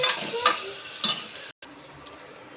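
Capsicum with curry leaves is stir-fried for khichdi, a sizzling pan with scraping spatula strokes at a slow rhythm, then a brief cut and quieter sizzle with a light clink.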